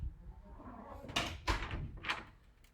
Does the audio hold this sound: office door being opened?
yes